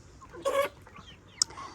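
Chickens on a small home farm give a short burst of clucking, one brief loud call near the middle followed by a quick sharp chirp, against a quiet outdoor background.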